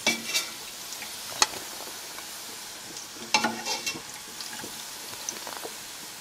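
Pork for chile shredded tacos fries in a pot, giving a soft, steady sizzle. Occasional sharp clicks and scrapes of stirring punctuate it, fairly quiet and close, with no talking.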